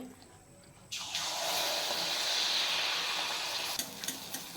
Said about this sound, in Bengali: এবার আমি একে একে মালপোয়া বানাবো তো আমি হচ্ছে এবার ছাড়ছি তেলে